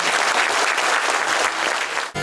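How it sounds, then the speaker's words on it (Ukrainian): Long applause for colleagues at a national film awards ceremony in Kyiv, a loud, dense roar of clapping from a large audience, sustained evenly before cutting off abruptly at the end. "І довгі-довгі оплески нашим колегам"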